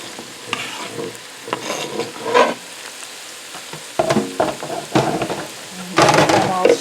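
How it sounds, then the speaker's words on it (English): Garlic, herbs and mushrooms are stirred and fried in a pan for a lemony lentil soup, giving repeated scraping and sizzling bursts that rise and fall, loudest near the end, with no talk. "in this step we're adding the garlic, the herbs, and the mushrooms"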